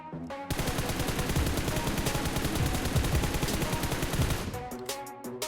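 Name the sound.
gunfire while aiming, from video game PUBG Mobile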